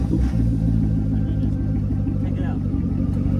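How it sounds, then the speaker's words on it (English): Car engine idling after starting with the key fob in its slot, a low steady rumble close by, with a person talking over it. "Now the car runs."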